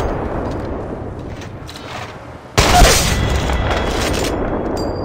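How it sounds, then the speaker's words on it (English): Gunfire from Apex Legends Mobile battle-royale gameplay: a quieter stretch of game noise, then a sudden loud burst of shooting around the midpoint, with continuous firing and action sounds holding the level up through the end. "Opening fire."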